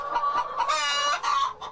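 Hens on a battery egg farm cluck loudly and steadily, with several birds calling over one another at close range.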